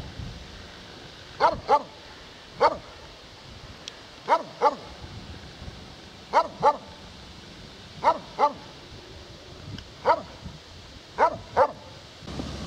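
An XL Bully dog barks in short clusters of two or three deep barks, repeated steadily over a quiet outdoor countryside background in Cambridgeshire, moderately close.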